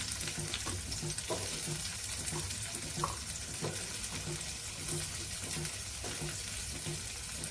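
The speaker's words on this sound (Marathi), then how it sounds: "आणि थोडी हलकीशी परतून घ्यायची आपण" Ingredients for a sprouted protein salad are sautéed lightly in a pan, making a close, continuous crackling sizzle with soft stirring scrapes throughout and no talk.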